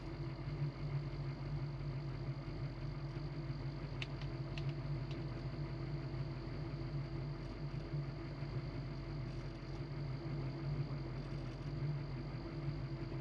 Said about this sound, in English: car starts up, runs good